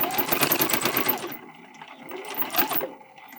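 Rapid bursts of sewing machine stitching run along a tote bag strap, a fast mechanical patter that stops briefly, then resumes in a shorter run, close and clear.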